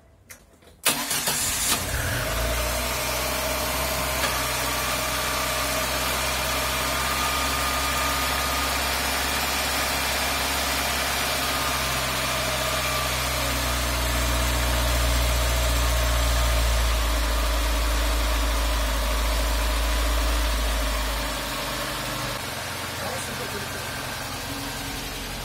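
VAZ 2109 engine cranking and catching in a garage, then settling into a steady loud idle that swells briefly before easing, with voices speaking over it.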